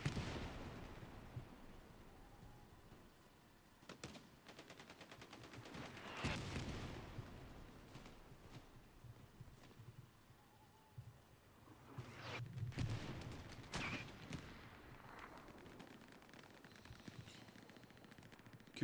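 Artillery fire in a competitive team video game match, faint distant booms and scattered crackling gunfire that come in irregular clusters, swelling twice before fading back.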